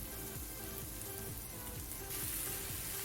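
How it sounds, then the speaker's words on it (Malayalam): Chopped tomatoes and green chillies are sautéed in oil in a pan for Arabic shakshuka, making a soft, steady sizzle throughout, faint and low in level, with a quiet rhythmic tonal pattern underneath. "ഇത് നല്ലപോലെ ഒന്ന് വഴറ്റിയെടുക്കുക"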